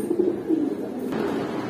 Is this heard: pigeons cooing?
yes